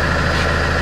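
A car engine idling steadily just after starting, heard close up in a brief, even rumble with no voices, next to a portable tire inflator about to be used.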